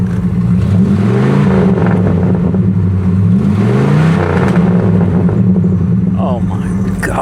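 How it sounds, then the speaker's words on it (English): A 1960s Ford Galaxie engine revs under load, its throaty exhaust note rising and falling in loud, steady swells close by, with voices talking over it. "Listen to that exhaust, will you?"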